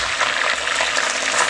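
Beef ribs fry in their own fat in a pot, giving a loud, dense, continuous sizzle and crackle that stays steady throughout, with no voices.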